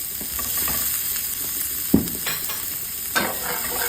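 Onion and garlic frying in a pan for crispy kare-kare, a steady close sizzle with occasional stirring scrapes and two sharp knocks of a utensil against the pan.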